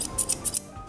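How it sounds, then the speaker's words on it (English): Grooming scissors snipping a dog's flank hair with four quick, crisp metallic cuts in close succession, near and clear. "I'm just going to use the tips of the scissors to come around into our flank area."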